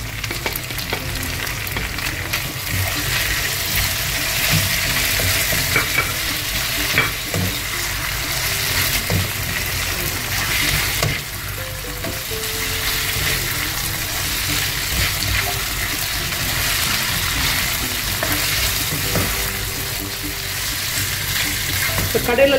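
Boiled mutton pieces frying for Madurai mutton sukka make a constant, close hissing sizzle that runs unbroken for over twenty seconds, with faint stirring clatter underneath.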